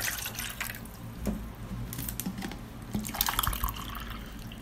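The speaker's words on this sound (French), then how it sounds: "je vais ajouter un verre d'eau" A glass of water poured into a pot in a home kitchen, quiet splashing and dripping with a few trickling bursts and faint clinks, close and soft.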